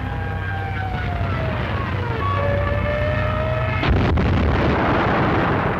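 Aircraft engines drone steadily with a falling pitch, then a bomber explodes in the air in a sudden loud blast, leaving a rumbling, noisy wash behind it.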